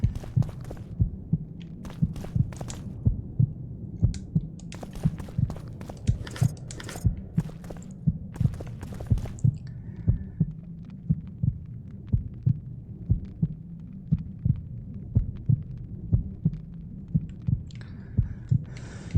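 Looping heartbeat effect from the video game The Witcher 2: Assassins of Kings, a steady throbbing double thump repeating about once per second over a low hum, loud and continuous throughout with no talking.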